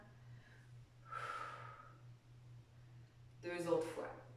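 Two slow breaths during a back and core exercise routine, an inhale then a stronger exhale, close and breathy with a quiet pause between them over a low steady hum.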